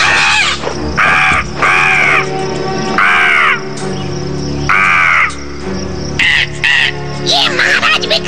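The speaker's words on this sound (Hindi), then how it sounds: "क्या तुम लोग उस कौवे को बुला सकते हो?" A crow caws again and again in loud, harsh bursts, close by, with insects chirring underneath and a voice speaking between the calls.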